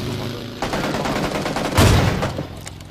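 Gunfire crackles through a squad fight in a battle royale video game, with rapid bursts building from about half a second in and peaking in a loud volley near the two-second mark, mixed with excited voices talking over it.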